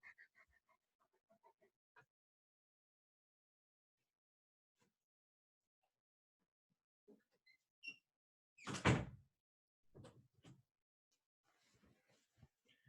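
Mostly quiet room with faint shuffling, then a single loud burst of a door being opened to let a dog out, followed by a few softer knocks and movement.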